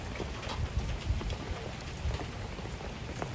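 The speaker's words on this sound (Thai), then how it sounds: "ตอนนี้ฝนเริ่มหยุด เบาลงแล้วนะ" Rain easing off after a heavy downpour patters steadily on surfaces close by. The dense, even hiss carries on without a break and no voices are heard.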